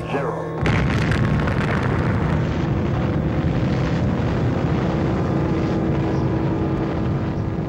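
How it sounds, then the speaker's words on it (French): A sudden massive blast from the first atomic bomb, about 20,000 tons of TNT, erupts into a long, loud, sustained roar of rumbling explosion that continues without easing. "la toute première bombe atomique était activée"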